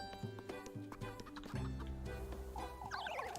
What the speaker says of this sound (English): There's some chickens right here.